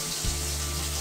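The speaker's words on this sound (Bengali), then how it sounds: "এখন আমি ভাজছি" Small morola fish frying in a pan of oil for a Bengali home dinner, giving a steady, close sizzle that runs without pause and with no talk over it.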